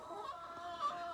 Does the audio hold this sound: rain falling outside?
no